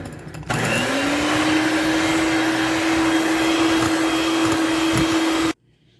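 Electric beater whipping sugar with cooking oil for apple banana cake batter, a loud steady motor whine that starts abruptly, holds an even pitch for about five seconds, then cuts off.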